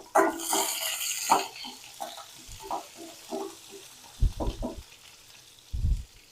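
Curry leaves and sliced ginger sizzle and crackle in hot oil in a pan while coconut rice is being made, with close stirring and scraping sounds and a few louder spatters.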